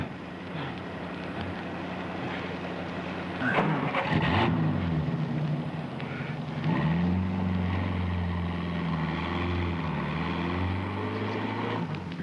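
Car being driven, a steady low engine drone with a shift in pitch partway through and a rising, humming tone afterward, continuous and fairly close with no talk.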